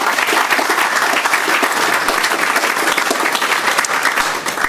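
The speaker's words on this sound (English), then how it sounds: "I think a strong round of applause is required." A roomful of people at an iftar dinner claps steadily and loudly, a dense, even wash of applause with no break.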